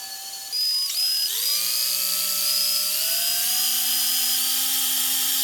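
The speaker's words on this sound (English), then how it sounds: "I have all my holes drilled out on both my handles for my knife" High-pitched whine of a small drill spinning up and biting into a knife handle, steady and close, with the pitch shifting under load.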